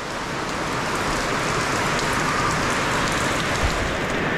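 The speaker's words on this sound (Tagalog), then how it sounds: "Malakas na yung ulan." Heavy rain pours down steadily, a dense, loud, unbroken hiss of drops on surfaces with no voices over it.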